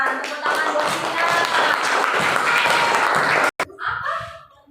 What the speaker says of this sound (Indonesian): Tepuk tangan buat Sina.